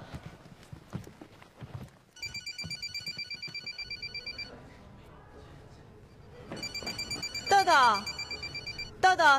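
A telephone rings in two bursts of repeated electronic trills, separated by a pause, with footsteps and a voice calling out over it.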